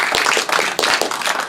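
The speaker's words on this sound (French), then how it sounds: "Alors là, il y a 2-3 applaudissements" An audience at a theatre event applauds, a short burst of lively, close clapping from a modest number of hands, with no voices heard.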